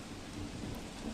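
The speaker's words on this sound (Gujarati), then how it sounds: "વરસાદ વરસી રહ્યો છે" Heavy monsoon rain pours steadily in Tapi, a dense continuous hiss with low rumbling underneath, even and unbroken across the short stretch with no voices.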